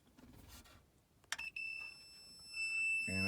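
A continuity meter beeps while testing car radio wiring in a 2006 Lincoln Town Car, a quiet sustained high tone that starts after a short click and holds, then a low rumble joins at the end.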